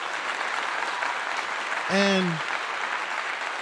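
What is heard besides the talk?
applause sound effect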